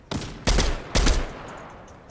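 Three short, loud bursts of AK-47 gunfire in Fortnite, evenly spaced about half a second apart, each with a sharp attack and a brief ringing tail, fading to a quiet background afterward.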